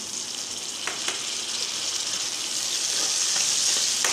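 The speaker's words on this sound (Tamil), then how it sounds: "தக்காளி நல்லா மசியே வதங்கட்டும்." Onions and tomatoes frying in a pan for chicken kuzhambu, a steady close sizzle with a few light clicks of stirring throughout, no voices.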